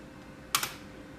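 A quick burst of a few keystrokes on a computer keyboard typing a search, close and crisp against a quiet room.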